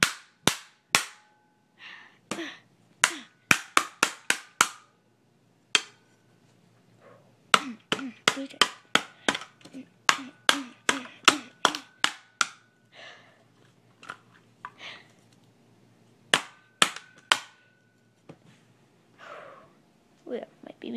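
A hammer smashing a calculator, with many sharp, hard cracks in irregular bursts and clusters, close and loud, with some talking in between.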